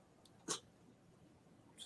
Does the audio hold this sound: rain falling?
no